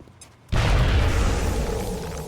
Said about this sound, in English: We could just grenade them both.